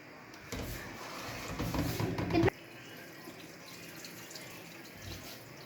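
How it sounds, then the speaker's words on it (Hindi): Water poured off a pot of boiled rice while making mutanjan, a burst of splashing and trickling that stops abruptly, then a faint kitchen hiss remains. "अब हम चावलों में से पानी निकाल लेंगे।"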